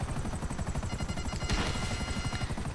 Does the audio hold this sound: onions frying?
no